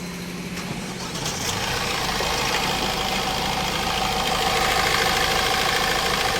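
Mahindra Marazzo engine running at idle after starting, a steady close mechanical rumble with a faint tapping knock running through it, no voices.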